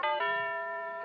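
A front doorbell is pushed by a visitor on Christmas Eve and gives a two-tone ding-dong chime with a long, clean ringing decay, heard alone with no talk.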